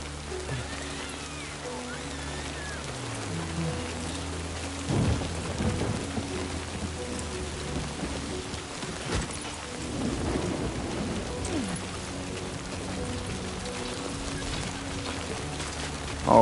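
Steady rainfall hisses throughout in the video game Death Stranding 2, with low rolling thunder rumbling in the background and a few heavier booms; a distant, continuous storm ambience.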